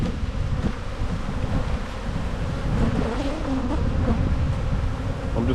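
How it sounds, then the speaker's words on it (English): Honeybees around a hive hum in a continuous low drone close to the microphone, mixed with gusty wind rumble; no voices. "Got bees trying to sting me on the knee."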